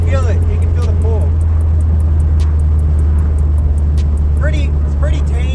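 A Honda car engine pulling hard with VTEC engaged, a loud steady drone from inside the cabin, with speech heard over it.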